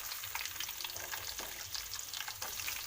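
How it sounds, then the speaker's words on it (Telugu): Onions frying in a pan with ginger-garlic paste until brown crackle and spit steadily, a soft close sizzle dotted with small pops and occasional stirring scrapes, no talking. "ఇవి కూడా ఫ్రై అవ్వనివ్వాలండి, కొంచెం బ్రౌన్ కలర్ వచ్చేంత వరకు"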